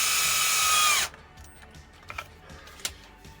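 A power drill runs steadily and loud for about a second, driving screws into the rear A-arm of a 2019 Arrma V4 Kraton RC car, then stops, followed by faint small clicks and taps of parts being handled.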